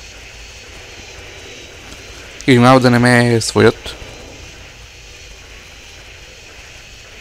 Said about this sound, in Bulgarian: Може самолетът малко да е шумен. Тоест не самолетът, а изтребител